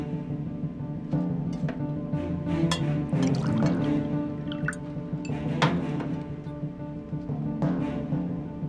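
Water poured from a jug or bottle into a glass for drinking in an indoor home setting, a steady trickling fill with drips over a low background hum, with no talking.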